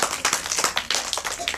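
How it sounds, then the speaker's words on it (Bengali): A small group claps for a girl named Disha at a yoga and Ayurveda event, a short burst of uneven, close handclaps with some voices mixed in. "দিশার জন্য হাততালি"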